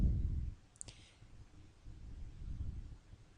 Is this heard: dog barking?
no